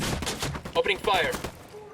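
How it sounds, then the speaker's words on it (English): Gunfire in the Ghost Recon video game, a quick cluster of sharp shots early on, followed by tonal, voice-like chatter and effects before fading to quiet. "Opening fire."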